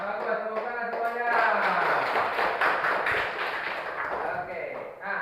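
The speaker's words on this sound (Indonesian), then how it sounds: "Bagus, tepuk tangan semuanya." Classroom students clapping hands together, a steady burst of group clapping mixed with voices, fairly close and moderately loud.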